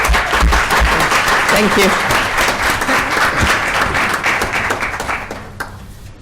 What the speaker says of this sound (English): Please give a round of applause for Cal.